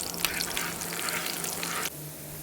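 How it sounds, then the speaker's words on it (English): Onions fry and are stirred in hot oil over medium heat, a steady close sizzle with scraping stirs that cuts off abruptly near the end, leaving a softer hiss. "once the oil is hot, put in your onions and stir"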